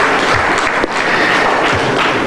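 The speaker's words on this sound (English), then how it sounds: "A round of applause for the GRA." Loud, dense applause from a studio audience on a live Ghanaian morning show, honouring the GRA; a steady wash of clapping runs the whole stretch with one brief dip near the start.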